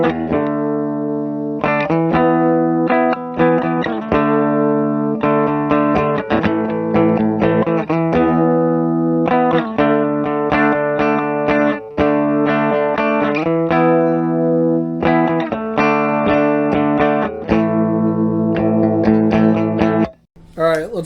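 A clean electric guitar on a Chapman ML2J in humbucker mode plays a steady run of chords and notes, warm and full, continuing without pause and fading briefly near the end.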